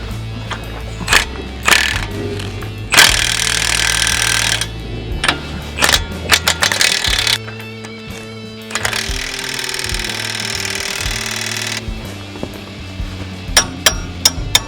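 An impact wrench hammers at a large, tightly stuck bolt on farm equipment, with loud buzzing bursts of rapid impacts lasting a couple of seconds each, separated by sharp metallic clanks and short pauses.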